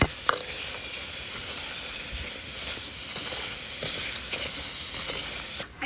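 Pork fat frying in plenty of rendered oil for homemade chicharon gives a soft, steady hiss and sizzle with occasional faint pops, and no voices.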